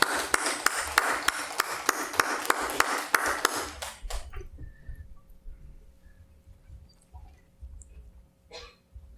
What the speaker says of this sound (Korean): 큰 박수로 화답하기 원합니다